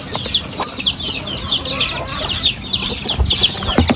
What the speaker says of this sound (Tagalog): nagpapakain uli ng kanyang mga alagang manok